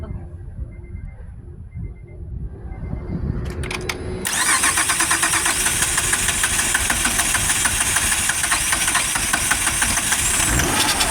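A 2005 Acura TL Type S with a 3.5L engine cranks for a few seconds, catches with a sudden roar, then settles into a steady, loud idle while people talk nearby.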